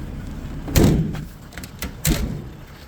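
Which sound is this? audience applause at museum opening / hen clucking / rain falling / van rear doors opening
van rear doors opening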